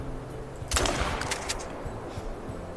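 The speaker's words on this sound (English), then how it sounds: "Gonna send a shotgun shell his way." A shotgun shot fired at a pheasant in theHunter: Call of the Wild, a single loud close blast followed by a decaying rumble and a few faint thumps.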